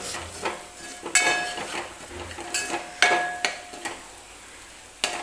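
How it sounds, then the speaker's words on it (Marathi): Spices frying in oil in a pan while being stirred, with a soft sizzle under repeated clinks and scrapes of a spoon against the metal pan, close, with no talk. "सगळे मसाले वगैरे टाकून घेतल्यानंतर मी छान असं हे परत तेलामध्ये भाजून घेते"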